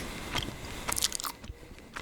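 Close, moist chewing with soft smacks and clicks in an irregular rhythm, no talking.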